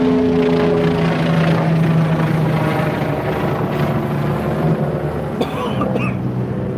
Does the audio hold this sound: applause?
no